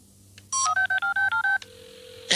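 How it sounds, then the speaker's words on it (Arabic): A cartoon telephone in a Looney Tunes episode is dialed: a rapid run of about eight beeping touch-tone digits, then a steady ringing tone starts, clear and close, with no speech. "الهاتف يرن، سأقفل الخط."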